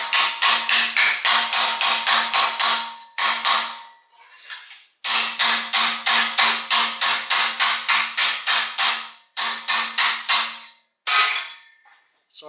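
A hammer strikes a TIG-welded steel car panel in rapid bursts of loud, ringing metallic blows, close up, the runs broken by short pauses.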